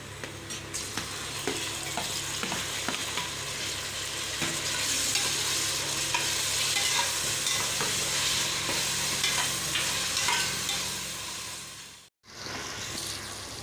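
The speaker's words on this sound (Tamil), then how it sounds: "வெங்காயம் நல்லா வதங்கினதுக்கப்புறம் தக்காளி சேர்த்துக்குங்க" Tomatoes frying with sautéed onions in a pan for mushroom biryani, a continuous close sizzle with stirring scrapes throughout, briefly cutting out near the end before resuming.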